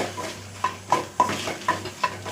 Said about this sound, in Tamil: நல்லா சட்டியில் கலகலன்னு சத்தம் கேட்குது